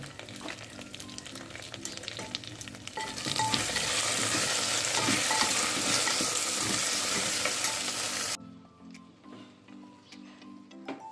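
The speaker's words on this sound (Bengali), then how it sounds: "মুগ ডাল বেশি ভাজলে না সেদ্ধ হতে চায় না সেই জন্য অল্প একটু ভাজলাম" Mung dal with salt and turmeric fries in a pan, a soft sizzle that swells loudly midway with stirring, then cuts off abruptly to quiet ticking; no talking.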